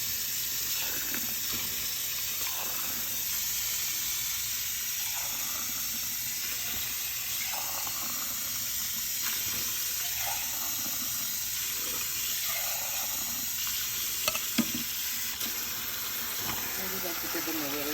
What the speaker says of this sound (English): we're just going to rinse our black beans